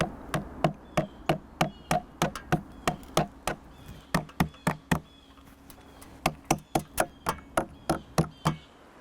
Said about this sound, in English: hammer the tree nails through the top and bottom loops of the mesh gateway into the drilled holes